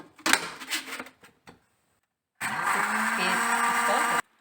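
An electric blender grinds green chutney with a pinch of salt in a short, loud, steady whirring burst that follows a few seconds of brief kitchen clatter.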